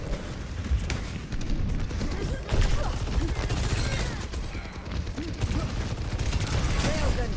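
Dense bursts of rapid gunfire crackle and boom continuously in the video game Overwatch 2, loud and close, with occasional voices underneath.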